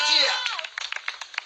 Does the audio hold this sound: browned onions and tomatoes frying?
no